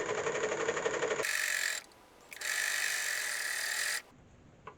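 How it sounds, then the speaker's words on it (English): A serger sewing stretch fabric for ski pants runs in fast mechanical whirring bursts, loud and close, stopping briefly between runs, with a faint hum in the pauses. "I do them straight on the serger."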